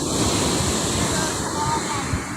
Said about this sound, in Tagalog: Ang lalakas pa naman ng alon.